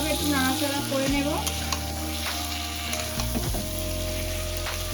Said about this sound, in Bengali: এবার দিয়ে দেবো মাংসগুলো, দিয়ে আবারও ভালোভাবে একটু নাড়াচাড়া করে নেব।